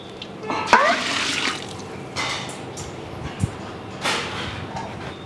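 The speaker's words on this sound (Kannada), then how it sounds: "ಒಂದು ಮೂರು ಲೀಟ್ರ್ ನೀರು ಹಾಕ್ಕೊಳ್ಳಿ" Water splashes and trickles into a large cooking pot in a kitchen as about three litres are added for mutton leg soup made in military hotel style, with short bursts of pouring and dripping at close range.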